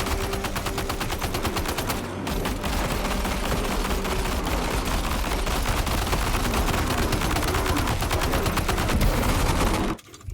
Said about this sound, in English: I'm just gonna keep shooting these guys in the ass